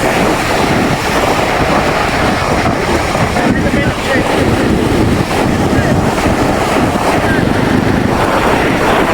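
Steady, roaring wind at sea buffets the microphone over the rushing wash of big waves, constant and loud throughout with no pauses.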